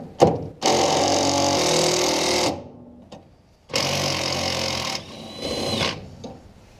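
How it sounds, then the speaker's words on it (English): A 3/8-inch impact wrench works a sway bar link loose on a 1968 Mercury Cougar front end, firing in two long, loud, buzzing bursts with short bursts and pauses between them, close by. "Let's see if my 3/8 impact can get out the sway bar link."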